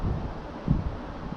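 Steady wind blows through an outdoor vegetable garden, a continuous low rushing with faint rustling and occasional gusts, loud against the microphone, with no one speaking.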